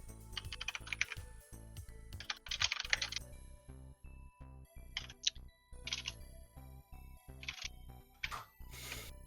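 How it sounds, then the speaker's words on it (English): Quick bursts of typing on a computer keyboard, key clicks clustered in short runs separated by brief pauses, close and quiet with a low steady hum underneath. "I'm typing what I said."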